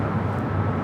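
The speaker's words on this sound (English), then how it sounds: "Next arrival here on the north side, United Airlines flight 405, coming in from Denver, 757-200" A United Airlines Boeing 757-200 arriving from Denver rumbles steadily on approach to LAX's north side, a continuous low engine roar heard alone at moderate distance.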